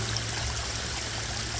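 A small waterfall in a garden water feature, water pouring down and splashing onto a rock, a steady close rushing splash with a bright, slightly tinny edge, continuous and alone.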